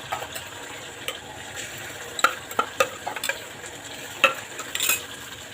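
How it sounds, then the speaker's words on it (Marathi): Onion, coconut and ginger-garlic paste sautéing in oil in a wok, a steady soft sizzle broken by several sharp scrapes and clinks of a stirring spoon, heard up close with no talking. "आता हे परतून घेऊया आपण."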